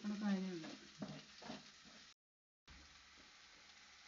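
Clams (kakka) fry in a pan, giving a quiet, crackling sizzle with a few stirring bumps; the sound breaks off briefly, then the sizzling resumes softer.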